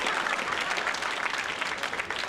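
Audience applause fills the room at Nick Kroll's stand-up comedy special: a dense, steady roar of many hands clapping, loud and sustained throughout with no speech over it.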